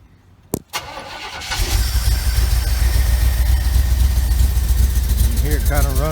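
A 1975 Chevy Camaro engine cranks with a couple of sharp clicks, catches and settles into a loud, steady rough idle with a skip, close by and continuous, with a voice briefly heard over it near the end.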